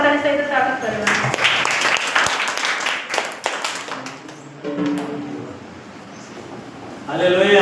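An audience claps in welcome at a church Bible study gathering, with a few seconds of scattered, lively applause between stretches of a speaker's voice.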